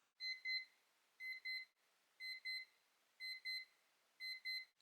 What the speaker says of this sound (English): It is so quiet when it comes to ringing the alarm.